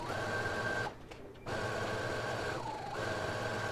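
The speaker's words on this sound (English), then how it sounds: "take them over to your machine, finish off your edges, as well as go ahead and do the hem of your sleeve while you're there" Sewing machine finishing the raw edges and hemming a sleeve on a bodysuit, a steady close whirring run that stops briefly twice before starting up again.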